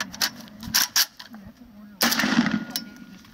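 Several sharp shots from a 5.56 Zastava M90NP AK-pattern rifle, a cluster of quick reports early on and another loud blast near the end, with faint outdoor noise between them.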